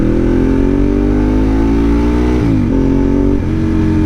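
A car engine runs loud and steady, its pitch climbing slowly as it revs, then dipping and recovering twice near the end, with no talking.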